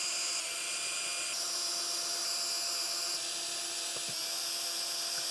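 A swivel-head power screwdriver spins steadily while backing out screws on a 2025 Honda CBR1000RR-R Fireblade SP during a velocity stack install, giving a continuous high-pitched motor whine with small shifts in pitch and a brief knock near the end.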